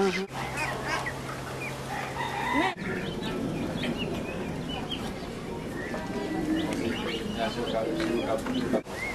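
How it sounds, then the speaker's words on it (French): Laying hens in a new henhouse holding about 80 birds in Haiti, clucking and calling continuously with a rooster crowing, busy and close, while people talk in the background. "voilà le nouveau poulailler de poules pondeuses"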